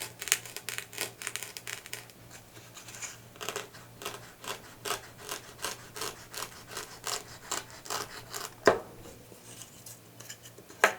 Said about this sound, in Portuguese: E vamos cortar.